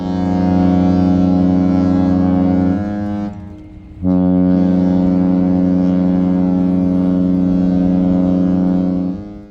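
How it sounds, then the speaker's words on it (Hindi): A ship's deep, loud horn blasts at departure from the Katara waterfront in Qatar, one long sustained tone that breaks briefly, then resumes and holds steadily to the end, with no voices. "तो हॉर्न की आवाज़ आना शुरू हो गई"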